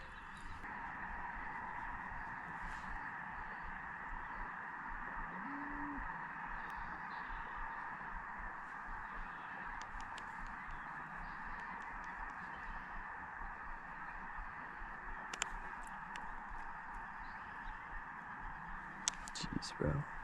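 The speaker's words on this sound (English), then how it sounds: "Those are like millions of ducks." A large flock of ducks on the Snake River calls as it is spooked off, with scattered quacks and honks over a steady outdoor hum and wind, people talking nearby.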